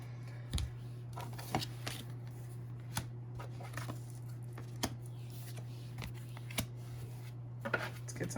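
Tarot cards are handled and shuffled in a quiet room, with soft, sharp card snaps and flicks at irregular intervals over a constant low electrical hum.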